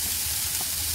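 Cabbage sizzling in a pan alongside tomatoes, a steady close hiss of frying with a faint low hum underneath, no voices.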